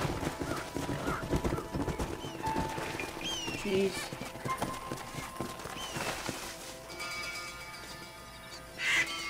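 Horse hooves clip-clop in the western video game Red Dead Redemption, a rhythmic trotting under game music with a brief whinny, while a person speaks briefly over the top.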